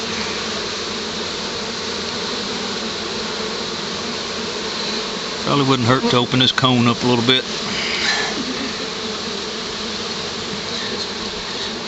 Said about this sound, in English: there's still quite a few bees coming out the pipe that's on the inside of the cone